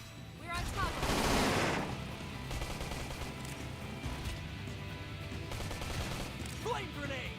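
Rapid gunfire in the sci-fi video game Xenoblade Chronicles X, bursts of shots rattling over a busy battle mix with music and effects, loudest early on and then continuing steadily.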